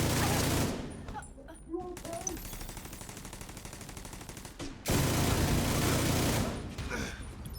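Rapid bursts of video game gunfire crackle in loud sustained volleys, with a quieter stretch between barrages before another heavy fusillade erupts.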